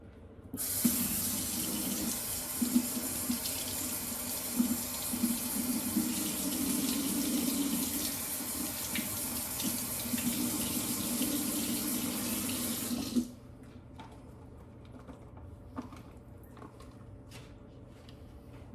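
Tap water runs steadily into a kitchen sink as pasta-salad ingredients get a quick rinse, a loud continuous splashing stream lasting about thirteen seconds before cutting off to a quiet room with faint small clicks.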